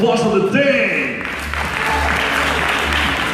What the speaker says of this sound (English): Can we give Elmer the loudest applause of the day?